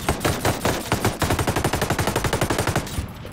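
MK48 Compact machine gun in Ghost Recon Breakpoint fires a sustained full-auto burst, a fast, even rattle of loud, close shots lasting about three seconds before cutting off.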